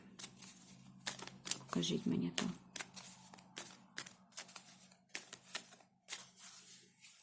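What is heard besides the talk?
shuffling tarot cards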